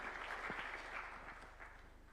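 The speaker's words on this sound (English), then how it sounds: "Kindly, let's welcome him with a clap." An audience at Kenya's State House applauds to welcome the Cabinet Secretary. The clapping is faint and distant, steady over a low electrical hum.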